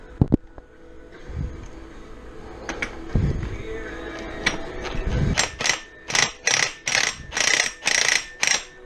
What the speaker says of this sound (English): I got a nice strap wrench now.